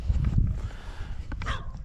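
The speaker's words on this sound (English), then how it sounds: "she hears the echo coming back and thinks it's another dog barking at her" A dog barks a few times outdoors in a valley over a low rumbling background, the barks fairly distant and short, echoing back.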